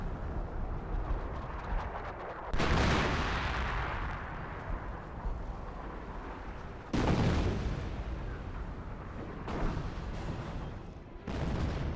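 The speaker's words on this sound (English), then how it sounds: "Something exploded from the artillery." Artillery fire and explosions in the Company of Heroes strategy game: heavy booms burst out at intervals, each followed by a long rumbling decay, loud and close.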